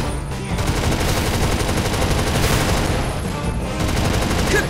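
Earth Defense Force: World Brothers 2 gunfire rattles as dense, continuous automatic fire through a loud game battle, with crackling bursts layered over a heavy rumble.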